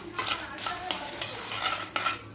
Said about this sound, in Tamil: ஒரு ரெண்டு பிரியாணி இலை மீடியமாக ஃப்ளேம் வச்சுட்டு லைட்டாக ஃப்ரை பண்ணுங்கள்